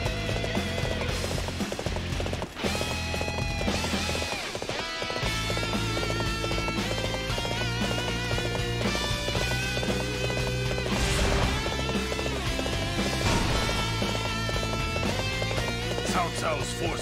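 Horse galloping in the video game Dynasty Warriors Xtreme Legends, with steady rhythmic hoofbeats under game music and a talking voice throughout.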